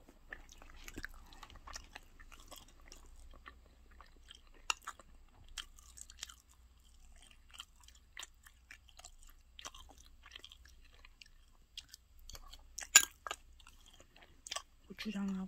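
Meat being chewed and eaten, soft wet bites and crunchy mastication clicks scattered irregularly over a quiet background, close to the microphone.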